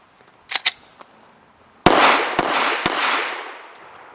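Several sharp gunshots ring out from a Full Conceal M3D folding pistol, a couple of quieter pops first, then a loud report followed by two more shots in quick succession, echoing outdoors.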